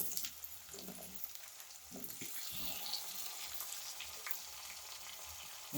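Chopped onion sizzles in hot oil in a pan for a garlic fenugreek curry, a steady close hiss with a few soft clinks and scrapes of utensils, no voices.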